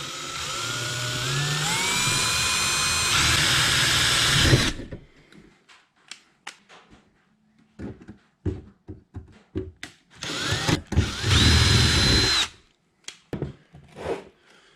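A power drill bores out old fasteners on an antique toolbox, with one long whining run that climbs in pitch, then short stop-start bursts, and a second strong burst near the end, close and loud.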